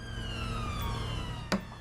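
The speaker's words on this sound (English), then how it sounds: "hopefully this officer will start moving now because his siren's quite annoying" Police car siren on a London street, a steady wailing tone with several stacked harmonics running throughout, close and fairly loud, broken by a short sharp knock near the end.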